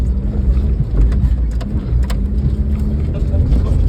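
A car driven by a first-time learner revs as the gas is pressed, a steady low engine rumble with road and wind noise running throughout, while voices talk over it.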